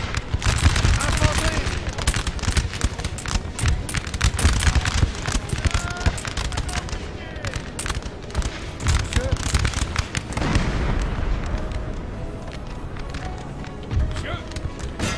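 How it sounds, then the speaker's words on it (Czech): Cannons fire cannonballs in a Napoleonic 1815 campaign battle in the strategy game La montée de l'Empire 4, a dense run of sharp booming shots and crackling volleys, loud and continuous, with a voice talking over them. "Radši dáme dělový koule."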